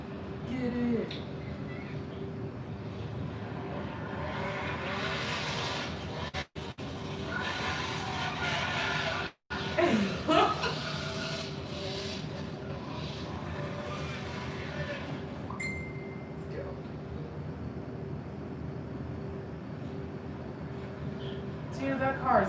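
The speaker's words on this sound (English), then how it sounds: "Dude, that car is bad as fuck." A car driving around outside, its engine and road noise rumbling steadily at a moderate distance, swelling and easing as it moves, with voices talking over it and a couple of abrupt dropouts.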